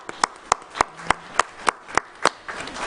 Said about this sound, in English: we're going to give you a round of applause in here